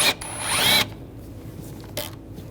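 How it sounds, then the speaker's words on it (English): A ratchet wrench with a 10mm socket backs out a bolt on a 2013–2016 Dodge Dart, a short burst of close clicking followed by quieter handling and one more brief click. "Using a 10mm socket, take this bolt out."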